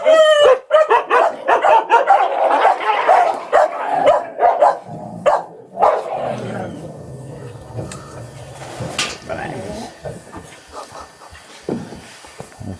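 Several dogs bark loudly and repeatedly at a dog play event, with sharp overlapping yips and barks in an irregular burst that eases to scattered, quieter calls.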